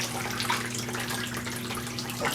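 An Arctic Spas Totem hot tub running on low speed gives a steady, close watery bubbling and trickle with a constant low hum underneath, no voices.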